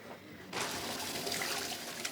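A bath tap comes on abruptly after a brief quiet moment, and water then runs steadily and fairly close into the tub, a full hissing gush that continues without any voices.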